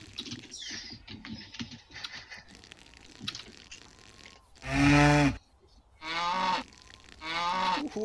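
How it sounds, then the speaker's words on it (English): A dairy cow being milked moos loudly several times in long, drawn-out lows, following a stretch of quick, soft rhythmic patter like milk squirting. "Milking a cow!"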